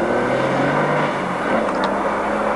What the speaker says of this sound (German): die Startnummer 2 Thomas Lund und Dirk Adam auf dem Porsche 911 Carrera.